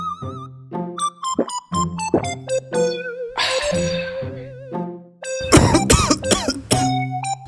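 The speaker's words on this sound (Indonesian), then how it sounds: "Batuk lagi" A man coughs repeatedly in short bursts of varying force, scattered irregularly with brief pauses between, close and fairly loud with no talk over them.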